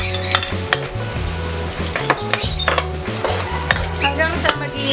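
Onion sautéing for pancit lomi in a pan, with steady close sizzling and frying hiss, stirring scrapes and a few utensil clinks, while a low tonal hum of background music runs throughout.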